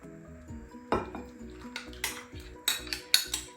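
Melted unsalted butter is mixed in a bowl for waffle batter, a utensil clinking and tapping against the bowl in uneven bursts, close and fairly quiet with no talk.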